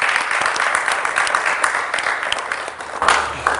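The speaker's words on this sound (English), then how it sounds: "Can you give yourselves a round of applause?" A live studio audience applauds together, a dense steady wash of clapping close by that swells slightly near the end, with no voices over it.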